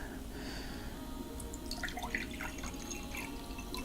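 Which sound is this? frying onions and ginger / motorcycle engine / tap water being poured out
tap water being poured out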